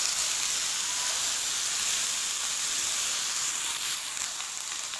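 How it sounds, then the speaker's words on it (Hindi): Chicken pieces fry in masala for chicken karahi, giving a steady, close, even sizzle and hiss that runs unbroken throughout with no voices. "पाँच मिनट के लिए आप लोगों ने इसको मसाले में अच्छी तरह से भूनना है।"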